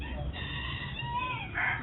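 A rooster crows and chickens cluck close by over a dense, noisy outdoor background.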